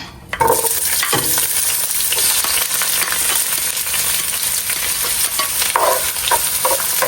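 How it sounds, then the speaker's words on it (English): Crab stirred in hot oil in a pot, a loud steady sizzle and frying hiss with scraping stir strokes running throughout, no voices. "We're just going to give it a quick stir."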